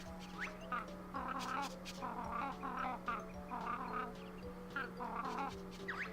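Kazooie the bird in the Banjo-Kazooie video game gives repeated squawking, quacking calls in short rhythmic bursts over a steady background hum, fairly faint, with no talk over them.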